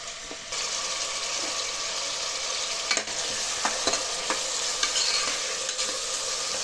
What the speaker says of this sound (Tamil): இப்போ நம்ம வெங்காயத்தை கொட்டிடலாம் இதுல